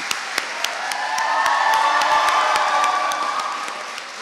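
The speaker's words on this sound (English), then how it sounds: "join me in giving a humdinger clap of thanks to your parents, your friends, and your academic tutors and professional services staff" Graduation ceremony audience breaking into a long burst of applause and cheering, dense clapping swelling to a loud peak and holding steady with scattered whoops throughout.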